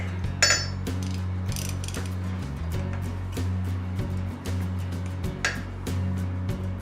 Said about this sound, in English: Try to get these screws nice and tight.